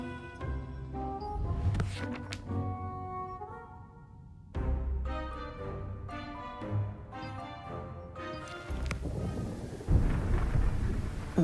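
A stormy night in the video game Throne and Liberty, heavy thunder rumbling and rolling in deep booms over steady rain, loud and continuous with surges of wind-like noise and music in the mix.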